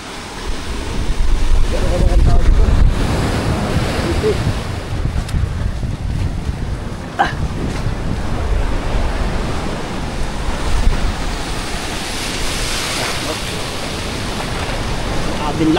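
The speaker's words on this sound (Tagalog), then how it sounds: "Grabe yung alon dito mga bay." Rough sea with large waves surging and crashing close by, heavy wind buffeting the microphone throughout in a continuous roar.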